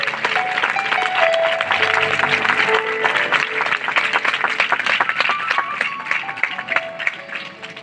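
A church congregation claps hard and fast in a dense, continuous wash of handclaps under loud singing and music, the rhythm driving steadily throughout.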